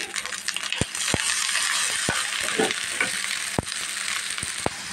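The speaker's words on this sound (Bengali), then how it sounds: "সরিষা বাটাটা দিয়ে এখন নাড়াচাড়া করে গন্ধটা যখন চলে যাবে" Mustard paste frying and being stirred for a hilsa curry, a steady sizzle under sharp clicks of a spoon against the pan, sounding close with no talking.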